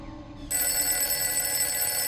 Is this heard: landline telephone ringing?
yes